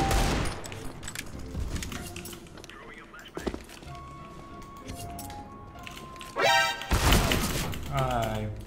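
Gunfire in the video game CS:GO, sharp shots and short bursts, faint at first and then loud near the end, with a quiet voice speaking in places between them.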